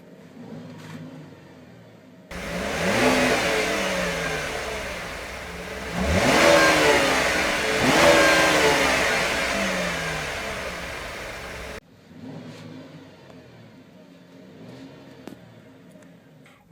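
From inside the cabin of a 2012 Chevrolet Captiva LTZ AWD SUV, a smooth engine idles quietly, then revs up several times in rising and falling surges before settling back to a low hum.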